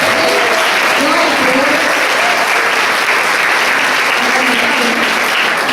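Church congregation at a women's conference applauding steadily, a dense, loud wash of clapping that holds throughout without letup, with voices faintly mixed in underneath.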